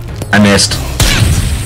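A grenade explodes in the video game Worms Clan Wars, a brief thudding blast that follows a short spoken remark and then fades with low rumble.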